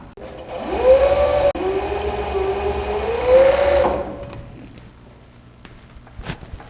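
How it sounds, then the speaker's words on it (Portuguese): An overlock serger stitches the hem finish at the bottom of a trouser leg, a loud steady mechanical whir in two sustained bursts with a brief pause between, then stopping and leaving quiet handling clicks. "aproveitando que a gente tá aqui na overlock já, a gente já vai fazer o acabamento aqui embaixo da barra"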